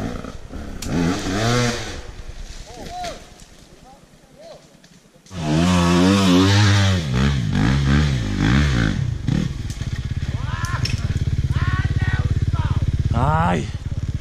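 A dirt bike engine revs hard and strains climbing a steep hill at an enduro hillclimb, loud and close, with rising and falling pitch, mixed with clatter and a few shouting voices.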